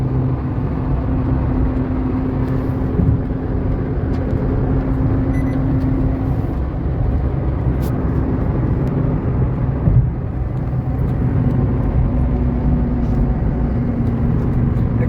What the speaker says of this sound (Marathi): नॉर्मल स्पीडनी पण गाडी जाते,